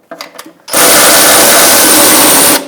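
Power tool with an 8 mm socket removing bolts under a 1998-2011 Ford Ranger 3.0L V6 during oil pan replacement: a few brief knocks, then a loud, close, sustained whir lasting about two seconds before stopping.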